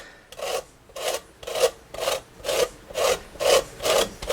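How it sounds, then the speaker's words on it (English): An orange is rasped across a fine grater for zest, giving about eight even, scratchy strokes in a steady back-and-forth rhythm, close and clear with no voices. "move it over your fine grater, because we're going to want the orange zest"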